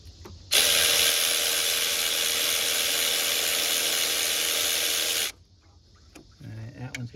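A socket ratchet works on bolts of the engine of a 2007 Cadillac DTS during a water pump replacement, giving a loud, continuous buzzing whir for several seconds before it stops and a few faint clicks follow.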